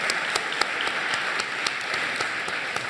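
Audience applause at a French real estate network event, a steady wash of clapping with a few sharper individual claps standing out, moderately distant and continuous throughout.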